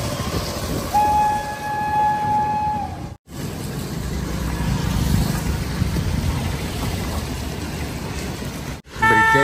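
A train rolls past on a rainy day near Navabharat Nagar, its horn blaring for a couple of seconds early on over a steady rumble of wheels and cars, loud and close, with no speech.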